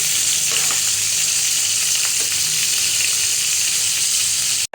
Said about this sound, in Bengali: গরম করে পরিমাণ মতো পেঁয়াজ দিয়ে দিলাম